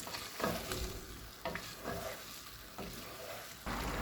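Chicken chole with added yogurt is stirred in a hot pan, making repeated scraping strokes in irregular bursts over a low sizzle, close and fairly quiet.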